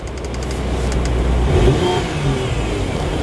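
A 3-litre petrol Porsche engine fires up and revs, a loud, close, steady roar that swells to a peak midway through before settling back to a constant growl, with no talking.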